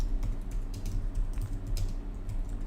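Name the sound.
typing on a computer keyboard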